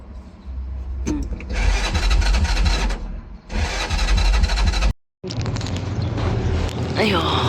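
A motor tricycle with a fuel tank fault is started on a roadside in several separate cranking bursts, loud and close, with short pauses between attempts.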